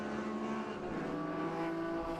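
Race cars in the GTS class lapping Miller Motorsports Park on a partly wet track, engines droning steadily and continuously at mid distance with no clear passes or gaps.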